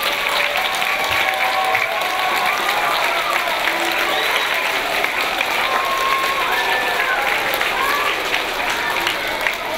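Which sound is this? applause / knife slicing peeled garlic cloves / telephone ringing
applause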